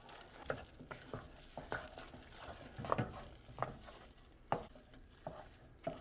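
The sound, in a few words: stirring choux pastry dough in a pan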